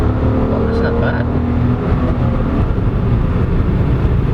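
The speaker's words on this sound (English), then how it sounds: "being a 3-cylinder engine, it does sound good" A 2022 Suzuki Celerio AGS small hatchback with a 3-cylinder engine pulls away, a steady, loud engine drone with road noise heard from inside the cabin, lasting throughout.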